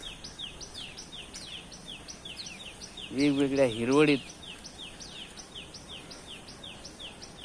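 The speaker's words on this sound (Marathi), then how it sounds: "वेगवेगळ्या पक्ष्यांच्या आवाजात" Repeated high chirping bird calls in a steady rhythm throughout, with a person speaking briefly over them in the middle.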